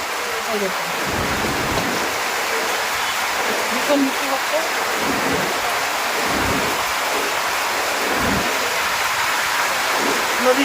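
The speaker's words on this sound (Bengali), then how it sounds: "এই বৃষ্টির মধ্যে এখন কেউই আসতে পারবে না প্রচুর বৃষ্টি করছে" Heavy rain pours down steadily in a village, a dense, even roar that never lets up. A voice is briefly heard underneath.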